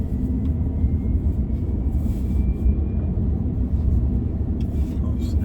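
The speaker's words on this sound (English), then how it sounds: "It has like a jet sound." A Tesla Cybertruck drives with a low, steady rumbling road and motor drone and a faint thin whine on top, continuous from inside the cab.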